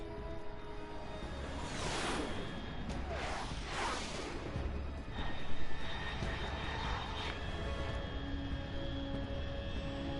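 Aircraft in Metal Gear Solid 3 passing overhead, a broad rushing engine roar that swells and whooshes past, then lingers as a fainter drone over steady background ambience.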